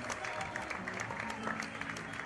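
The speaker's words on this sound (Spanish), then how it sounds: "Fuerte aplauso para ellos" Faint, steady applause from an audience for the Monte Maíz folk dance group from Córdoba province, a soft, even patter of many hands throughout.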